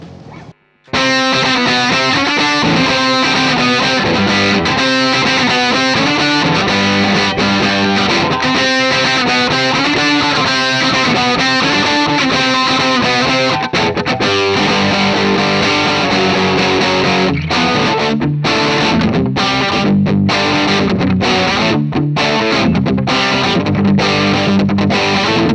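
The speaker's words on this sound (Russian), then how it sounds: "давайте посмотрим, как эта гитара звучит на кранче." Grover Jackson DK-42 electric guitar on its bridge pickup with a crunch tone, playing loud, continuous distorted riffs and chords, with choppier stabs and brief gaps toward the end.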